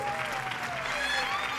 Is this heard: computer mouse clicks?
no